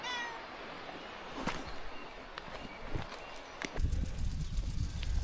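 A cat meows faintly a few times over a steady outdoor hiss of a flowing stream in the Black Forest, with birds, light rustling and footsteps nearby.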